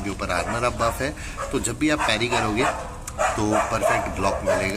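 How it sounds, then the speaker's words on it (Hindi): Dogs barking out in a street, heard from a balcony, sitting well back behind close, continuous talking that runs over them throughout. "कुत्ते भौंक रहे हैं मेरे गली में"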